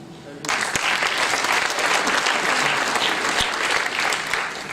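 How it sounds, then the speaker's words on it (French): Audience at a political party's national council in Vendôme breaks into strong, continuous applause, starting abruptly after a brief quieter moment and holding steady throughout. "Et pour ça, j'aimerais qu'on l'applaudisse."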